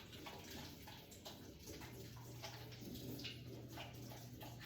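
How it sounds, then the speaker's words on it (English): Water runs from a tap while someone rinses their hands, a steady close splashing stream with a constant low hum underneath and no talking. "I'm gonna go ahead and rinse my hands."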